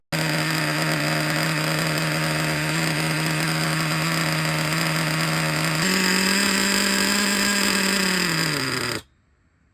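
A Traxxas Revo 3.3 nitro RC truck engine runs with a loud, steady buzzing whine close by, shifts to a lower pitch partway through, sags briefly and then cuts out abruptly.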